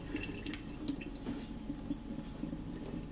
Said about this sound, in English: What I'm gonna do is drain all of this off.